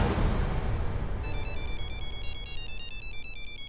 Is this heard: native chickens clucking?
no